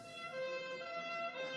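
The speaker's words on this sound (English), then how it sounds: "A siren sounded in the distance." A distant siren holds a steady tone, faint and alone on a quiet road after an accident, with no voices over it.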